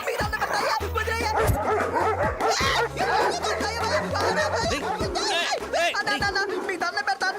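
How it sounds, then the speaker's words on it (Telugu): Several dogs bark in a comedic Telugu film scene, the barks mixed with steady background music and overlapping voices and laughter. "3 కుక్కలు మెత్తకున్నవన్నీ నమిలేస్తున్నాయినా."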